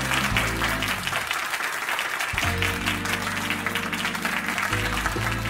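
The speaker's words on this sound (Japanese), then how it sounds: "よろしければ拍手をいただけますでしょうか。" Crowd applause in the Grand cabaret hall in the video game Like a Dragon Gaiden, steady clapping over game music for several seconds, with a brief dip near the middle.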